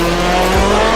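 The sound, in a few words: race car with side exit exhaust, Project Cars video game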